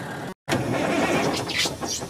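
A car engine cold-starting in extreme cold on the Road of Bones, running on synthetic oil: a brief cutout, then the engine catches and runs loudly and steadily close by.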